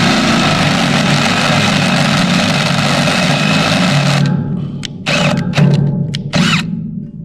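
A battery-powered cordless drill runs with a continuous loud motor whine for several seconds, then stops and gives a few short trigger bursts. It is close by, with no talking.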